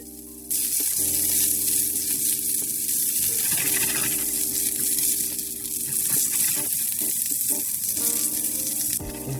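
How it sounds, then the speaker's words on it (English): Asparagus sautéing in butter in a pan, a steady loud sizzle and crackle that runs almost the whole time, with a brief gush of water near the start and no talk. "I'm going to just go ahead and saute some asparagus and some butter."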